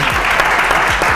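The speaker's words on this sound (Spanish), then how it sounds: "Un aplauso para Andrés." Audience applause for a guest named Andrés on a podcast stage, steady dense clapping throughout, loud and close.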